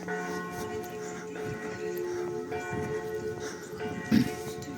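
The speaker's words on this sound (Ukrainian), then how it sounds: "Трошки послухаємо дзвони." Church bells ring in a town at Christmas time and sound moderately distant, their sustained tones layered and overlapping under faint street ambience.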